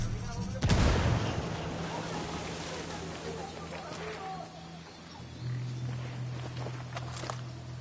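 A frag grenade blast in a console shooter erupts as one loud broadband burst near the start, then rumbling ambience and engine drone carry on with faint scattered noises.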